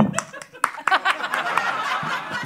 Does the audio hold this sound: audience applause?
yes